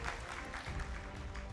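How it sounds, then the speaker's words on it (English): Faint, steady applause from a school debate audience, sounding distant and continuous throughout with no voices over it. "A round of applause for Mary Leakey."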